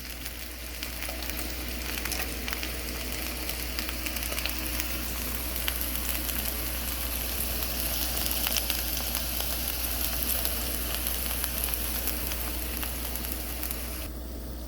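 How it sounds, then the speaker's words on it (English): Sausage frying in a single pan, a steady dense sizzle with faint crackles running unbroken and fairly close throughout, no voices. "And then we'll get cooking the sausage."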